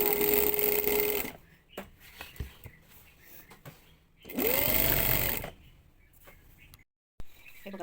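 Sewing machine stitching a fall onto the inside edge of a saree, a fast whirring run at the start and another burst midway, with quiet pauses and handling noises between the stitching runs.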